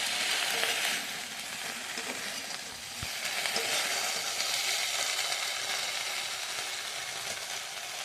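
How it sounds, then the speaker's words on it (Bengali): Okra pieces fry in a pan with a continuous soft sizzle and hiss, fairly quiet, with one brief knock partway through. "তো তার জন্য দেখতে পাচ্ছ আমি ভেন্ডিগুলোকে খুব ভালো করে ভেজে নিচ্ছি।"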